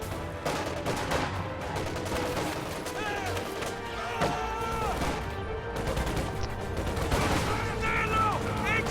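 A Maxim machine gun fires from a house in Company of Heroes, with bursts of gunfire and sharp impacts over steady battle noise while a voice talks underneath.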